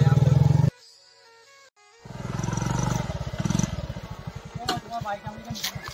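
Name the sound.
motorcycle engine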